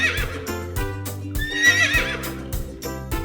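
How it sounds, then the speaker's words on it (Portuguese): A horse whinnies and neighs, with clip-clop hooves, set over a bouncy children's music bed in a kids' animal-sounds lesson; the call is loud and up close across a few seconds. "Cavalo!"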